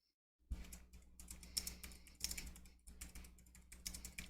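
Rapid typing on a computer keyboard, close and fairly loud, with steady uneven bursts of key clicks starting after a brief silence and continuing throughout, with no talking.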